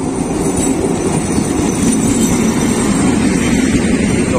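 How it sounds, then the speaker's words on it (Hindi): A passenger train pulls into Bassi station near Jaipur, its rolling wagons producing a loud, steady rumble with faint wheel squeal, continuous and close throughout with no voices. "अभी दोस्तों अपनी ये ट्रेन आ चुकी है कुछ इस प्रकार से"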